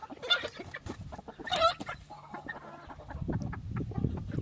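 Roosters and hens just let outside in a farmyard give a few sharp, fairly close clucks and calls in two short bursts, followed by low shuffling and scratching sounds.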